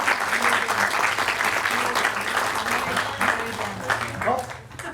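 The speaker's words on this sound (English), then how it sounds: "Let's give them a round of applause." Applause from a crowd at a Veterans Day program, steady dense clapping for about five seconds that tapers slightly toward the end, with a few voices mixed in underneath.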